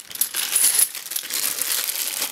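Coins spill and tumble out of a bag of UK pennies, a dense, continuous metallic clinking and jingling heard close and fairly loud for a couple of seconds.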